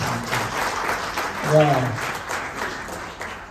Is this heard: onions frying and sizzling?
no